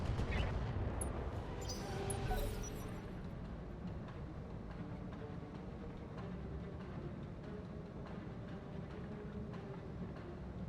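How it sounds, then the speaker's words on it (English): Artillery fire in the BattleTech video game with the Roguetech mod: a burst of loud booming impacts in the first few seconds, then a steady rumbling bed of distant battle noise with faint scattered thuds. "Artillery does artillery thing."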